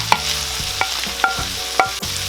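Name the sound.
beef liver added to a pan and frying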